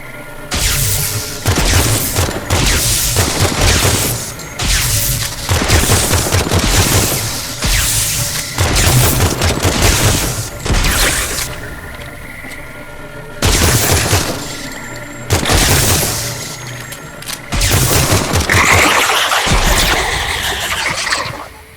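Repeated bursts of gunfire in the video game Project Silverfish, loud, close volleys in clusters separated by short pauses, layered over a steady rumbling in-game background.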